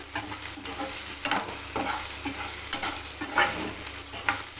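Okra sautéing in oil with chili powder gives a steady close sizzle broken by periodic stirring scrapes and clicks from the pan, with no voices.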